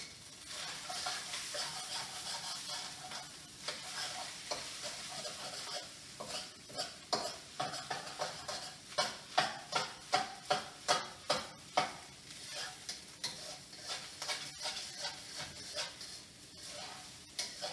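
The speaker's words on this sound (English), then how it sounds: "Just moving the rice around to heat it through." Fried rice is stirred in an oiled wok with a spatula, a soft sizzle under rhythmic scraping strokes that grow louder and more regular midway, with no voices.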